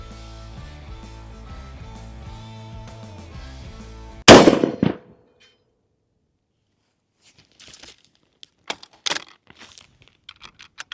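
A single sharp AK rifle shot fired at a target rings out loud and close, cutting off the preceding music, followed by silence and a few faint clicks and handling noises.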